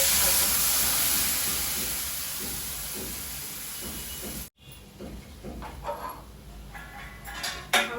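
Ingredients poured into a hot, small kadai set off a loud, even sizzling hiss that fades gradually. It cuts off abruptly midway and gives way to quieter clatter and intermittent scraping.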